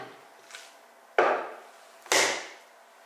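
A knife cutting through homemade steamed luncheon meat and striking a cutting board, heard as two sharp, close chops with short decays and a faint tap before them.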